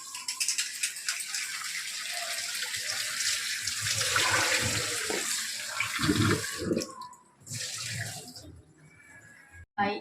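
A pot of chicken curry with drumstick vegetable boils vigorously, a close, loud, bubbling hiss and churn that settles into softer intermittent bubbling toward the end.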